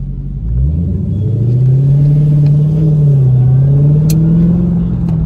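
Dodge Challenger Hellcat and Charger Hellcat running together at a Dodge Power Party, a loud, close, steady supercharged V8 rumble whose pitch climbs and dips slightly as the cars pull, with no talking.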